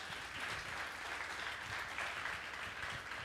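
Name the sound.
applause for an idea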